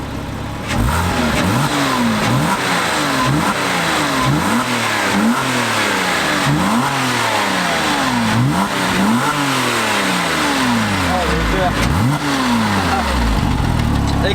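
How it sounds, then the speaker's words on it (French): Porsche naturally aspirated flat-six engine revving repeatedly, close and loud, with about six rhythmic rises and falls in pitch over a steady rumble. "on va vous montrer un peu le son qu'a fait le beau Flat 6, donc le Flat 6 atmosphérique"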